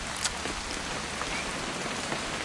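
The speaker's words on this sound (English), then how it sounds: "It's gonna rain the whole weekend," Steady rain falls on a hard surface in a video game, a dense, even patter of drops with no voices.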